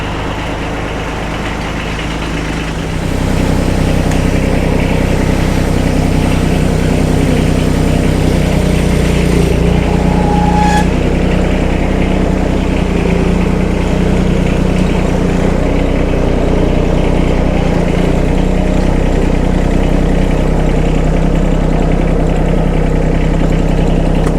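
A diesel mower engine idles loud and close after a glow plug start, a steady low rumble holding an even drone throughout with no talk.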